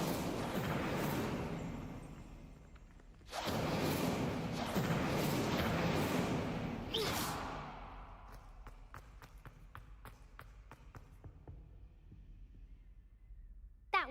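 A spell cast in Hogwarts Legacy: two long roaring whooshes of magical fire, followed by a trail of sharp crackling pops fading out, loud at first and then dwindling to sparse snaps.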